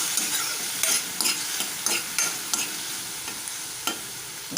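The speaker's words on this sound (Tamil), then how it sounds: "நல்லா வதங்கட்டும்" Drumstick pieces sautéing in a pan over low heat, with a soft continuous sizzle and repeated stirring scrapes at irregular intervals, fairly quiet with no voices.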